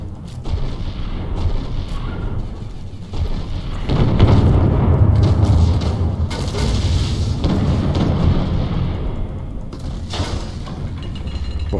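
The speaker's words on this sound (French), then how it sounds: "On nous tire dessus." Cannon fire in the space-ship battle game Treasure Planet: Battle at Procyon, heavy booming blasts rolling one into another, loud and close, with rumbling impacts and no talk over them.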